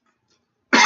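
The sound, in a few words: cough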